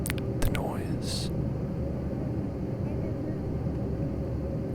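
Steady, loud airplane cabin drone during a flight, with a broad low roar running evenly throughout, a few brief close rustles and clicks near the start, and faint whispering in the mix.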